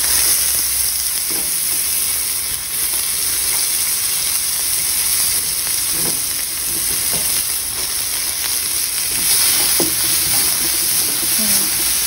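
A small amount of onion fries in a pan during broccoli-fry cooking, giving off a continuous close sizzle with occasional soft stirring scrapes throughout.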